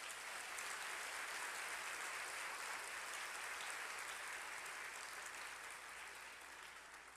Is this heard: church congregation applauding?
yes